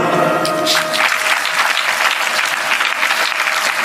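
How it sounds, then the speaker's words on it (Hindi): An audience at a Hindi devotional satsang and Bhagavat katha gathering claps together. The applause is loud, close and steady, with a continuous patter of many hands lasting about four seconds. "आपने ताली थोड़ी ढीली बजाई"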